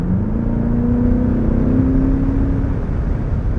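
2021 Chevrolet Corvette Z51 convertible with a naturally aspirated 6.2 liter V8, engine pulling under acceleration as a close, steady droning whir with a slowly rising tone, no talk.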